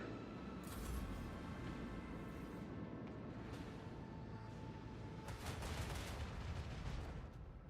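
Torpedoes launch in a space battle in Warhammer 40,000: Rogue Trader, a dense, continuous rumble of booming fire and crackling blasts that swells near the end, with no speech.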